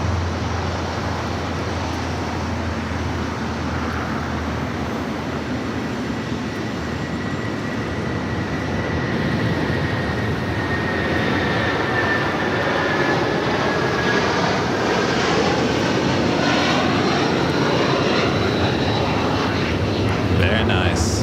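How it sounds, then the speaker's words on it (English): Cargolux Boeing 747-400 freighter on its takeoff roll down runway 25 right at LAX, a steady broad jet roar that builds and holds for the whole stretch, with faint traffic-like hum underneath. "It's a 747-400 freighter now rolling down at 25 right"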